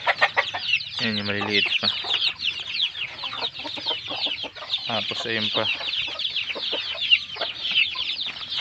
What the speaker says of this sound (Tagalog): Kasi ito yung ating pinakamalaking tandang.